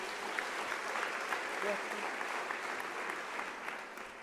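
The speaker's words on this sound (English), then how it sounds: "can you give them a round of applause?" A steady, full round of applause fills an academic opening-ceremony hall, many hands clapping evenly throughout and tapering slightly at the close, with a faint voice briefly beneath it.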